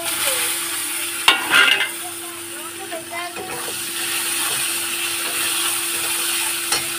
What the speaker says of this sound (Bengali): বেগুনটা আর ঝিঙেটা ভেজে নিচ্ছি